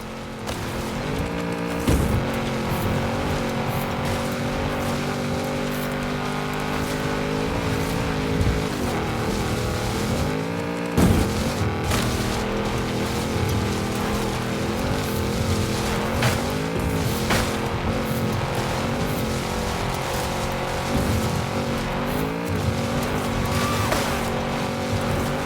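A racing video game car, a Lamborghini Centenario nearby, roars through trees and across a dirt road and stream, its engine note rising and falling steadily with occasional sharp tire squeals and impacts.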